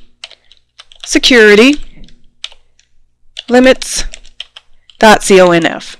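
A computer keyboard types out a text-editor command on a Linux system as soft, scattered keystroke clicks in the gaps between bursts of speech. The clicks are quiet and close, and the talking is much louder.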